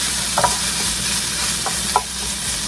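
Meat sizzles steadily in a hot pan while baked spaghetti is being made, with a few brief scraping stirs breaking through the constant frying hiss.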